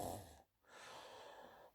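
A narrator's voice imitates loud snoring: a rough, breathy snort, a brief pause of near silence, then a longer, drawn-out raspy breath.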